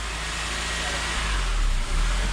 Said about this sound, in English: RPM is surging.